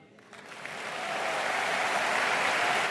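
A political audience breaks into applause and rises in a standing ovation, the clapping swelling quickly from a few hands to a loud, dense, sustained roar that holds steady to the end.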